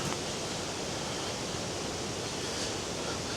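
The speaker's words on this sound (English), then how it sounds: "I can hear water. It sounds a lot louder up here than it did back there." A waterfall after a storm in South Wales limestone country roars as a steady, broad hiss, distant yet continuous, with no voices.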